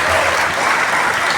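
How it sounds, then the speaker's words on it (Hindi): Loud, dense applause from a large audience at the Patna University 107th anniversary ceremony, an even burst of clapping held for the whole short stretch. "लीजिए तालियों की गड़गड़ाहट से इस ऐतिहासिक क्षण का"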